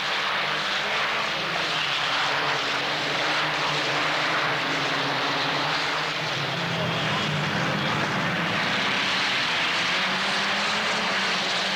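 A pack of Peugeot 505 race cars at the Paul Ricard circuit in 1986 roars past hard on the brakes into a tight right-hand turn, a dense, continuous engine drone that stays loud and steady throughout.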